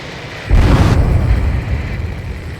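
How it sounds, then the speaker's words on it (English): In Ace Combat 7, an underwater explosion: a deep, muffled boom swells suddenly into a heavy rumbling roar that lingers and slowly fades, loud and bass-heavy with no voices. "A huge explosion just went off underwater."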